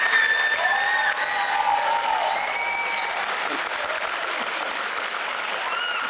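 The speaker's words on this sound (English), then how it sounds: "give yourselves a round of applause" Sustained applause from an audience at a high school band and choir event, dense steady clapping with scattered cheers and whoops rising over it.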